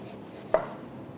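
A single crisp knife stroke slices thinly through a carrot onto a cutting board, one sharp close chop in an otherwise quiet kitchen.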